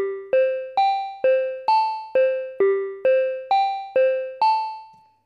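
An OP-1 Field synthesizer arpeggiator in its type 2 pattern plays a bright, plucky note sequence, eleven evenly spaced notes stepping up in a repeating figure before the last one rings out and fades, with nothing else audible.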